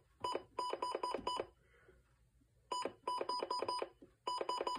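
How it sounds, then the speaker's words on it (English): Weather radio button beeps: quick runs of four or five sharp electronic tones, separated by short pauses, close and clear against a faint background hiss. "This is honestly a nice radio, again, with its classic button beeps and siren test."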